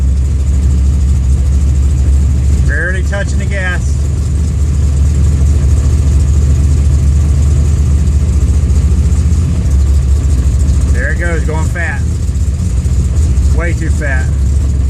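A car engine idles steadily with only a touch of throttle in a flooding setting, a loud constant low rumble with no clear revving, while a voice speaks briefly a few times over it.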